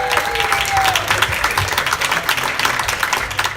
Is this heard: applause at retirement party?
yes